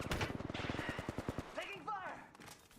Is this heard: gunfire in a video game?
yes